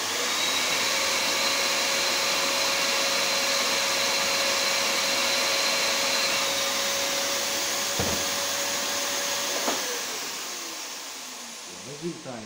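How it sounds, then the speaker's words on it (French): A vacuum suction unit runs steadily with a loud, continuous broadband roar while a heat gun warms plastic covering film, holding nearly constant before tapering off near the end. "Une fois que le film sera assez chaud, je vais mettre en route l'aspiration"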